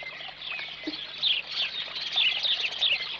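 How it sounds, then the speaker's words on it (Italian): Small birds chirping among trees outdoors, with a quiet continuous mix of thin high tweets and twitters at moderate distance and no talk. "Tu lo sai quanti uccellini ci sono tra gli alberi?"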